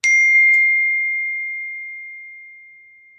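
A single electronic phone alert chimes once, a clear ringing tone that rings out and slowly fades over a few seconds, with no voices.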